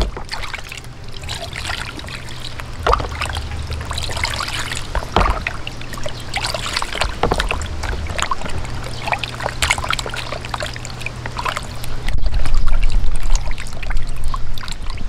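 A whole chicken rinsed with water outdoors, splashing and trickling water with handling noises over a low steady hum, close and fairly loud, swelling near the end, with no speech.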